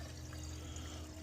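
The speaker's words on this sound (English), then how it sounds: "water hose going pretty strong into the block" A garden water hose runs strongly into the engine block of a 1928 Ford Model A during a flush, giving a continuous, even rushing of water without a break.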